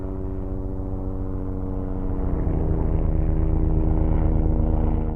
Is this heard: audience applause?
no